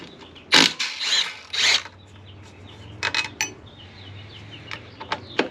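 An Allen key works two 6mm Allen bolts loose from the rear sets of a Yamaha MT-07 motorcycle, giving sharp metallic clicks, ratcheting and scraping in short bursts, close up, with quieter taps between.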